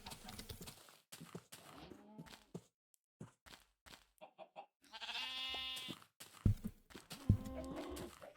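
Minecraft sheep bleat in short, nasal cries among sparse game sounds, with a longer wavering bleat in the middle and a couple of sharper calls near the end, quiet overall.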